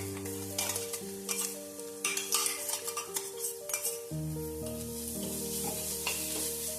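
Crushed spice paste for a Kerala fish roe thoran hits softened onions in a pan and sizzles steadily, with a few stirring scrapes on top and soft music running underneath.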